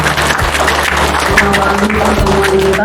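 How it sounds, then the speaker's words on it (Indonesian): A crowd at a village meeting claps steadily and fairly loudly for about three seconds, with a hum of room noise beneath the applause. "Tepuk tangan buat kita semua."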